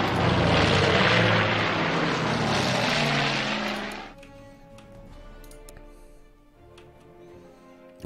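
Aircraft engines drone loudly in the World War II strategy game Order of Battle: Blitzkrieg, a dense propeller roar for about four seconds that then drops away to quieter game ambience.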